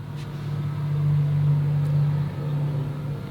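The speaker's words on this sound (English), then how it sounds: "I'm gonna also say the sound of cars, which hopefully you can't hear right now" Traffic on a busy street, a low steady rumble of a passing car that swells and fades, fairly close, with no talking.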